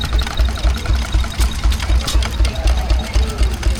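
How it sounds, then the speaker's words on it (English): A very small stationary engine runs at a steam and craft fair, chugging in a quick, steady, regular beat close by, with faint crowd murmur in the background. "There's an incredibly ickle stationary engine over there."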